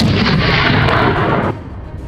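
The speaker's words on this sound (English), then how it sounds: "then a sharp, echoing gunshot rang out" A single loud, sharp gunshot cracks and booms during a wild boar hunt, then its echo rolls away and fades over the next half second.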